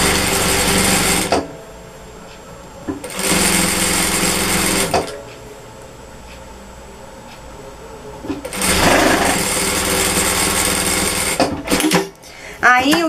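A domestic sewing machine stitches a fabric bread basket in loud, close bursts of rapid whirring, several runs separated by pauses, with a voice talking between stitching runs.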